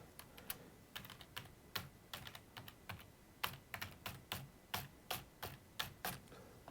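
Close, quick keystrokes on a computer keyboard as an email address is typed, sharp clicks in an uneven rhythm, some in rapid runs and some spaced apart, in a quiet room.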